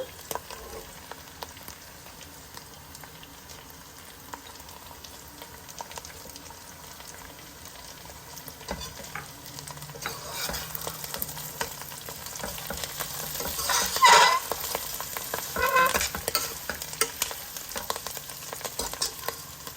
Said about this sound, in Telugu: తర్వాత సిమ్లా మిర్చి వేసుకుందాం క్యారెట్స్